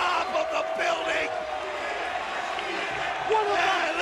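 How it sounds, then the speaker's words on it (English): Wrestling arena crowd at a TNA Full Metal Mayhem match reacting after a high-risk dive, a steady loud roar of many voices with shouts and whoops throughout, a commentator talking over it. "Listen to this crowd."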